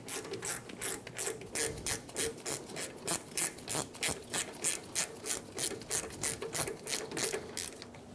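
A hand ratchet clicks in quick, steady strokes, tightening the parking brake shoe pins on a Ford Expedition, close up and alone for about eight seconds with rhythmic bursts of ratcheting.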